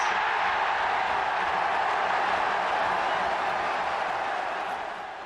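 A large football stadium crowd at a 1992 FA Cup final roars continuously, a dense, loud wash of cheering that holds steady and then begins to ease toward the end.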